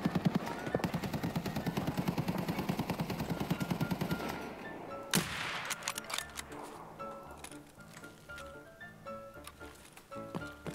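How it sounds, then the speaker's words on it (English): Mounted machine gun fire in Escape from Tarkov comes as rapid rhythmic bursts for the first few seconds, followed by a sharp crack and scattered quieter game noises. "there was a guy on the mounted machine gun"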